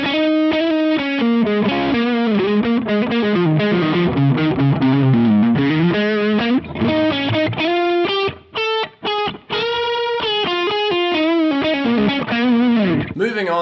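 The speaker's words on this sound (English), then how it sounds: "we can turn them both on where the first distortion feeds into the second distortion" An electric guitar through two stacked distortion pedals plays a fast, heavily overdriven solo-style lead, loud and sustained, with short pauses between runs near the end and no talking.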